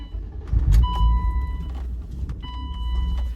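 A car cruises around town with a steady low engine and road rumble close by, broken by a few short electronic warning chimes from inside the cabin.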